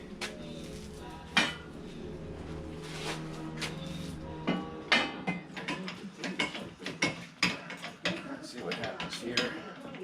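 A manual pipe bender forms tubing around a 2-inch die for a beach buggy build. Close metallic clanks, ratcheting clicks and scraping taps arrive in irregular bursts that get busier toward the end, over a low steady hum.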